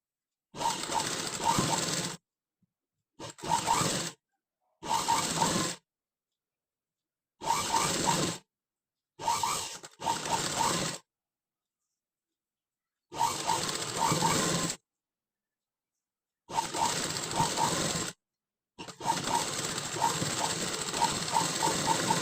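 Sewing machine runs stitching fabric over a lining for a sleeve potli, in repeated short bursts of one to two seconds separated by silent pauses, ending in a longer continuous run.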